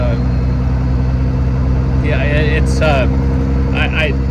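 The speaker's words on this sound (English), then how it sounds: "there's the injection, like the mechanics of the injection and the exhaust sound" A First Gen Cummins diesel truck engine with a 6-inch exhaust stack rumbles steadily at a low, loud drone, with injector clatter underneath, while people talk over it.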